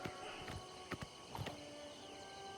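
Horse hooves clip-clop in the video game Oblivion, a quick irregular series of sharp knocks over a steady ambient game background, fairly close and moderately loud.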